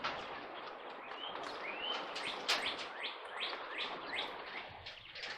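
Caged quail, six to a cage across three cages, give repeated chirps and short rising calls at close range, a busy overlapping twittering that continues throughout with no talk.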